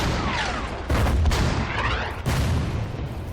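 Artillery booms out in Order of Battle: Blitzkrieg, two heavy cannon blasts about a second apart, each followed by a rumbling roll, set against a steady battlefield background with a faint whistling sweep early on.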